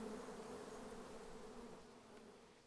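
Honeybees cluster around the queen inside a hive, giving a steady, close, droning buzz that holds evenly throughout without voices.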